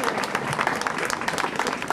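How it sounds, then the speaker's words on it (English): A room full of people at a charity walk claps steadily for a bishop after his speech, a thick wash of applause with some voices blending in beneath it. "let's all give Bishop Jim another round of applause"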